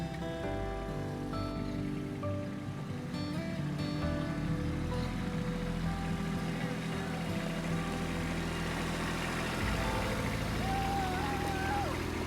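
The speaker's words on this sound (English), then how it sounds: "she's got the tractor back up here now" A Kubota tractor drives up with its engine droning steadily, a continuous low rumble that holds level throughout with no voices.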